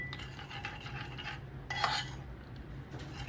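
A spoon clinks and scrapes against a bowl while stirring a sugar and instant dry yeast mixture for homemade hotdog buns, a close, busy rattle of metal with a brighter scrape near the middle.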